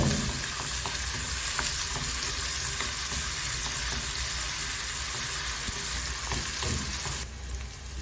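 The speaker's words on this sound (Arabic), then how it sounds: "شوحنا البصل" Onion sizzling steadily in white oil in a pan for an Egyptian foul dish: a loud, continuous crackling fry with faint stirring clicks, easing off slightly at the very end.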